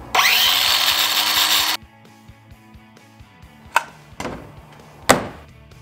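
A power saw cuts loudly through wood for nearly two seconds and then stops, followed by a low idling hum and a few sharp knocks and clunks.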